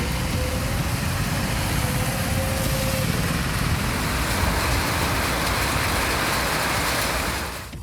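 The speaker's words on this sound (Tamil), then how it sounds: "பெய்த மழையால் சாலைகளில் மழைநீர் பெருக்கெடுத்து ஓடியது" Heavy rain with rainwater streaming along roads, a dense continuous hiss and patter with a passing engine-like hum early on, steady and loud until it tapers off at the very end.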